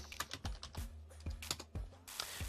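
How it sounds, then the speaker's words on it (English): Typing on a computer keyboard while filling in an online form, a quick irregular run of close, crisp key clicks and clacks with short pauses, no voices. "So I'm going to type email."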